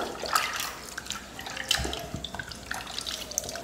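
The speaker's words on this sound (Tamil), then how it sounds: "அடுத்து புளி கரைச்சி எடுத்துக்கலாம்." Hands squeeze and swirl tamarind in a bowl of water, pulling out the pulp, making soft, irregular sloshing and squelching splashes close by with small drips between.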